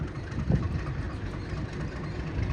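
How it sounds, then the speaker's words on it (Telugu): A meter gauge train pulls out of Gir toward Amreli, giving a low, steady rumble with a brief louder thump near the start. The sound is moderately quiet, heard from on board or close by, and no one speaks. "గిర్ నుంచి అమరేలి వెళ్ళిపోతుంది ట్రైన్ ఇప్పుడు"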